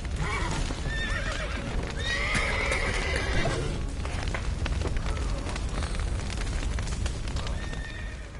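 Horses whinny loudly amid clattering hooves in The Witcher 3 video game, over a steady rumbling, crackling backdrop of fire, with several neighs rising through the first few seconds.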